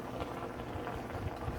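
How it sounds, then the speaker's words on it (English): Chicken stir fry sizzles and bubbles in a pan, a steady dense crackle of frying with no talking, close and moderately loud throughout. "you see it frying in the bottom there"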